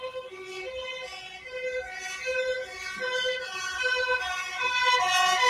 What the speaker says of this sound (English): Here's a siren.